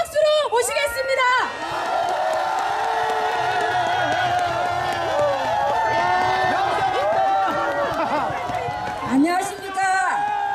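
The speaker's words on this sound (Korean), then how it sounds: "국민 사이다 발언자 어머님 큰 박수로 모시겠습니다." Crowd at a large candlelight protest rally in 2017 cheering, whooping and clapping loudly and continuously to welcome a cleaning worker to the stage, with babble throughout.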